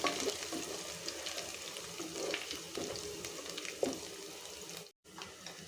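Sliced onions and turmeric sizzle steadily in a pan for chicken curry while a spoon scrapes and stirs them in soft repeated strokes, ending with a brief dropout.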